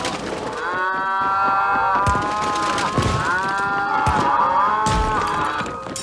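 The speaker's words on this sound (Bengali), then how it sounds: "নিচের উঠোনের গোয়াল থেকে গরুগুলো ডাকতে থাকে।" Several cows low repeatedly in a cowshed below a house courtyard, long overlapping moos rising and falling over a busy background of knocks and crashes, loud and sustained with no speech.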